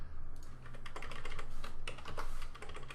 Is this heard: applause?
no